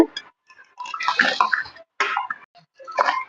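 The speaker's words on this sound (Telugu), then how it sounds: "ఇప్పుడు బియ్యం వేసుకుంటున్నా బియ్యం వేసుకుంటున్నామండి బాస్మతి రైస్" Soaked basmati rice, a kilo and a half, is tipped into a biryani pot for Andhra-style ulavacharu biryani. Several short bursts of wet, splashing pouring sound are separated by brief gaps.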